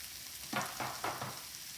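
Lean beef sizzles and crackles in a hot stir-fry pan, soft and close, with a few brief bursts as the meat is stirred and turned.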